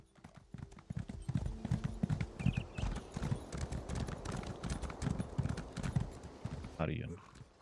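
Horse hooves clip-clop steadily in the Elder Scrolls Online video game, a brisk, even riding rhythm throughout, loud and close, with a brief voice-like sound near the end.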